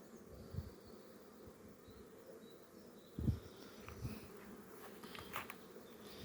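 Honey bees buzz steadily in the open air in spring, a faint humming drone with individual insects passing close now and then.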